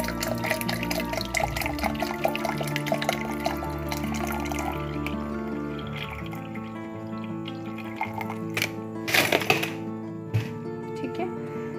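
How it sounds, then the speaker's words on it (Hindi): Water is poured into a falsa (phalsa) juice mixture with sugar, a soft trickling and splashing with scattered drips and light clinks in a kitchen, quiet and close, growing brighter briefly near the end. "सबसे लास्ट में जो मैं इसमें ऐड करने वाली हूँ वो है पानी"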